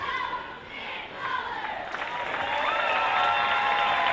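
A packed gym crowd at a sold-out high school boys varsity basketball game cheers and applauds, egged on by cheerleaders, a dense sustained roar that swells louder toward the end.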